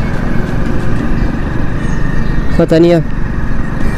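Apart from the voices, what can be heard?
Hero Splendor motorcycle engine misfiring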